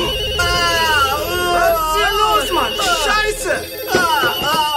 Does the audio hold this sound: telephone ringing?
yes